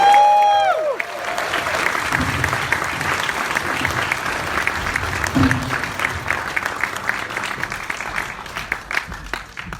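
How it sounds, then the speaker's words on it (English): An audience at a 35mm screening and cast Q&A of Friday the 13th: The Final Chapter applauds steadily, with dense clapping and a few cheers, sustained throughout at a strong, even level. "the man of the hour, ladies and gentlemen, big round of applause, Director Joe Zito."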